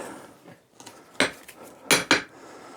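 Sharp metallic knocks of a hammer driving a striker plate into a tractor tyre rim on a David Brown 990, a few scattered light taps followed by two loud close strikes in quick succession.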